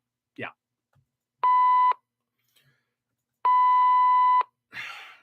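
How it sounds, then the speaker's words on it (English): Two steady electronic sensor beeps, the second longer, sound clearly at an even pitch with short noises between them. "Would you stop with the sensor beeps, okay?"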